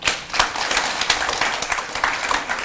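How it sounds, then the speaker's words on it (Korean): An audience at a Rotary club gathering claps steadily and densely for a few seconds, a close, lively wash of many hands with no speech over it. "박수 한번 부탁드리겠습니다."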